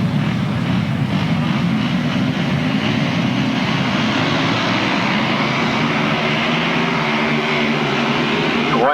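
Several grasstrack racing motorcycles roar away together at the start of race 29 of the 1991 Silver Helmet meeting at Staplecross, a loud, continuous, dense engine drone holding steady throughout.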